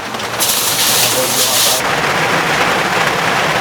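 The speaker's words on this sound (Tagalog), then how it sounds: "Kaso lakas ng ulan." Heavy rain pours in a steady hiss around a vehicle at a drop-off stop, with a louder burst of downpour or spray partway through, heard close.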